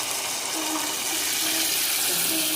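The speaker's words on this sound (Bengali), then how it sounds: "এখন পরিমাণ মতন জল দিয়ে দেবো।" Water pours steadily into a pan of egg chilli curry, a continuous close rushing splash that holds for a few seconds with no break.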